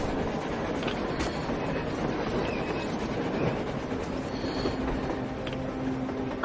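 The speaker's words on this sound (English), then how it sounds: "A train! A damn train on the surface!" A train rolling across the surface in the game Metro Exodus, a steady broad rumble with a low droning tone that holds for the full stretch at an even loudness, with no voices over it.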